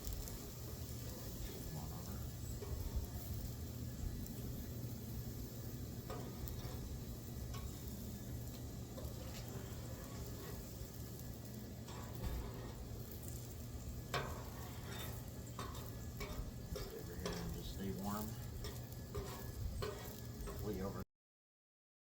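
Potatoes frying on a Blackstone flat-top griddle for a steak and egg breakfast hash, a steady quiet sizzle with occasional scraping and ticking of a spatula, soft and continuous under faint background noise.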